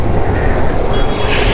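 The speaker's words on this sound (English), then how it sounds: "Oh, metro. Okay, there's metro." A metro train rolls past in the city at night, heard from a KTM 250 Adventure motorcycle ride, a steady, loud low rumble of rail cars with a faint high whine near the end.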